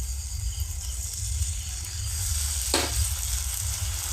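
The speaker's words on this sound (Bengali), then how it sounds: "এবারে সব কিছু দিয়ে মশলাটাকে একটু ভালো করে কষে নিতে হবে" Masala with tomato paste fries in a pan, making a steady close sizzle and hiss with a low rumble beneath. One sharp scrape of stirring cuts through partway.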